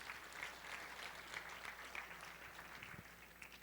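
A church congregation at a Sunday service applauds, a faint, distant, continuous patter of many hands clapping.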